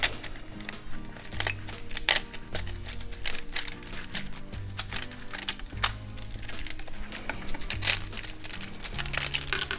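A 2017 MacBook Pro keyboard being pushed by finger off double-sided tape during a liquid-damage repair gives steady close crackling and crinkling, with a low tonal hum running underneath throughout.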